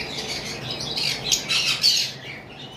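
A pair of green Fischer's lovebirds squawks in a string of shrill, close calls with no talk.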